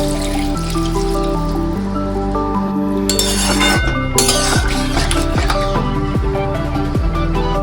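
A little water poured into a cooking pot of potatoes for aloo potoler dalna: clinks of utensil on metal and a short trickle and dripping, close by, over background music.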